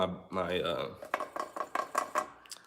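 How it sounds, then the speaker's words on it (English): A quick run of small metallic clicks from noisy trumpet valves, about seven in a steady rhythm, following a brief sound at the start. "my valves are so noisy"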